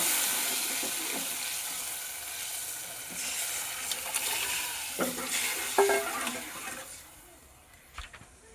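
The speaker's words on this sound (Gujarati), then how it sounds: "આ રીતનો વઘાર કરી નાખવાનો।" Garlic sizzling in hot oil as a Gujarati vaghar tempering for gunda greens. A loud, continuous frying hiss with a few stirring clanks gradually dies down near the end.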